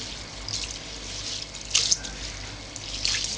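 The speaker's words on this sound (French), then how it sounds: "Je verse l'eau du riz." Water poured off rice being rinsed for maki, soft splashing and trickling in a sink with a brief louder pour in the middle, faint and close.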